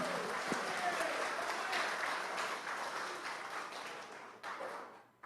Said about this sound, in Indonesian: Beri tepuk tangan dari berbahagia kepada seluruh pasangan calon kita.